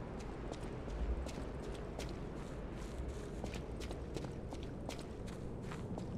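Steady footsteps walking through an area in the video game Lies of P, a continuous run of soft treads over a low ambient bed, moderately loud with no talk.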